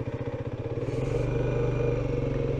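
A Mondial HPS 125 motorcycle engine cranks with rhythmic pulses, then catches and settles into a loud, steady idle nearby, with no one speaking.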